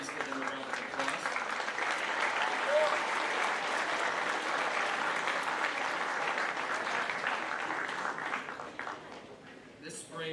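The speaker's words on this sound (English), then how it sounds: "Please give them a round of applause." A school assembly audience applauding award winners, dense steady clapping from many people that swells early and slowly thins out near the end.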